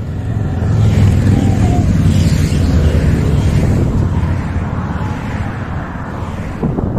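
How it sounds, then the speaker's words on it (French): A car passes on a flat country road in the Camargue near Aigues-Mortes, heard from a bicycle as a broad, rising and fading rumble half buried under steady wind buffeting. "il y a une bagnole qui passe"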